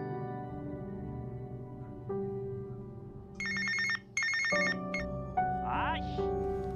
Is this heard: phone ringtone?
yes